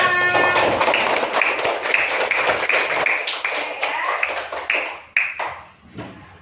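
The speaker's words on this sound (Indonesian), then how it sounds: "Oke, tepuk tangan untuk kalian semua." A classroom of students clapping their hands, a fast, uneven burst of many close claps that gradually thins and fades, with a few last scattered claps trailing off.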